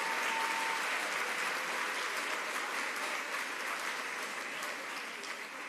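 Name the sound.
applause at a ribbon cutting ceremony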